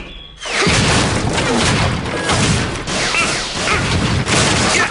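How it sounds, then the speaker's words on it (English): Rayman video game action: a dense, loud run of shots, booms and crashing impacts that starts abruptly and continues almost without pause, with no talking. "Now be careful, Rayman. Only shoot the bad guys"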